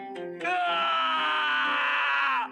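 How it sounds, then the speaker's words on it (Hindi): A policeman screams in a horror story sound effect, a short breath followed by a loud, sustained, strained cry that cuts off abruptly after about two seconds. "जैसे ही निकोलस ने उस पुलिस वाले की चीखें सुनी"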